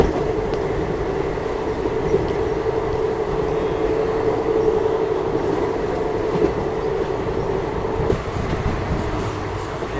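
Amrita Express train running steadily on rails through hilly monsoon country, a continuous close rumble of wheels and carriages with a faint clatter, with no talk.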